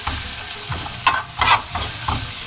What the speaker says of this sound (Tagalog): So, una po, nilagay po natin yung ating sibuyas.